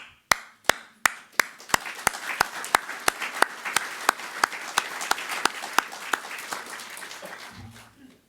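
Applause at a speech for the launch of New Zealand's Mental Health and Wellbeing Commission, starting as a few separate sharp claps that quickly swell into steady, moderately loud clapping from the audience, then fading at the end.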